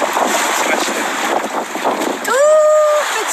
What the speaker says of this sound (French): Dans un bateau cigarette.